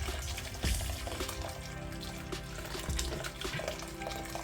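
Very hot boiled water from a kettle is poured onto raw rice for mackerel jollof, a soft continuous splashing and trickling in a kitchen, fairly quiet and without talk.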